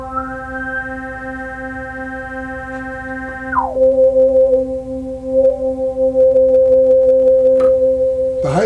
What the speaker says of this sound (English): The high-pitched noise you're hearing is actually the filter self-oscillating.